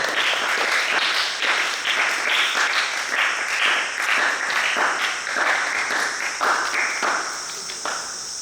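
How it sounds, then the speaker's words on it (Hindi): Loud, steady applause from an audience at a weekly Jain religious study gathering, sustained clapping throughout that eases slightly toward the end. "जोरदार ताली बनाकर स्वागत करें"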